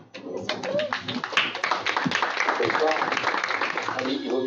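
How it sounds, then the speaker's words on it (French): An audience at a science café talk clapping, with a burst of applause that starts suddenly and holds steady, fairly close, and people talking over it. "Il vaut mieux applaudir à la fin"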